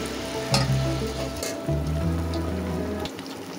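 Mango malpua frying in oil, a close sizzling hiss over a low rumbling hum that cuts out and returns, with a couple of brief clatters.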